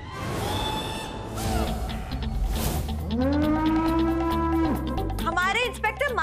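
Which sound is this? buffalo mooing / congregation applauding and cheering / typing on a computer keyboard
buffalo mooing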